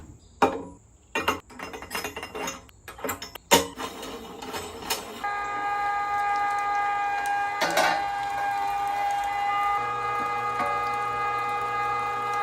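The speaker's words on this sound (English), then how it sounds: "Neil's running this through the grinder twice on the same setting" An electric meat grinder works through brisket, with a few clanks and knocks of metal parts first, then a steady whining motor drone that runs on to the end of the clip.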